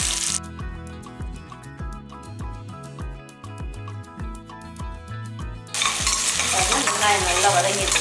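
Small onions frying in a pan for mutton curry, stirred with repeated scrapes and knocks of a utensil in a steady rhythm, then a louder, bright sizzle takes over near the end; close and clear, with no talk.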